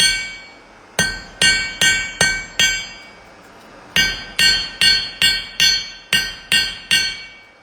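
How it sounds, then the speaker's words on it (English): A heavy hammer forges steel and silver jewelry stock on an anvil, ringing out loud, close metallic strikes in two rapid runs of about six and nine evenly spaced blows with a short pause between. "I think you could just get one of those nice heavy hammers"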